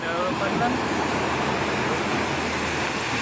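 Tsunami water surging onto a beach in Purok Asinan, General Santos City, Philippines, a constant loud rushing wash of moving water with voices under it.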